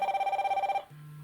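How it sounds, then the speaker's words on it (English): A phone call rings on an HK8 Pro Ultra smartwatch, a rapid pulsing ring tone for under a second that stops abruptly and gives way to a low steady hum. "Let's make a quick phone call."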